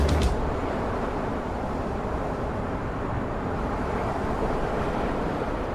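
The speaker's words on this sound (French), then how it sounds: "le fracas des vagues indiquait à l'homme léopard que sa course s'arrêtait ici" Ocean waves crash against a rocky promontory beneath a cliff, a continuous loud roaring wash of surf with a sharp burst at the start, heard alone.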